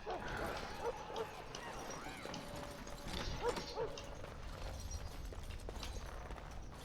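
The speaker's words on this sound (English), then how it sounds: "can actually hear a dog barking in the background." A dog barks in the background of the Dragon Age Origins video game, with scattered muffled yelps and barks under a busy game ambience of footsteps and movement, fairly faint and far off.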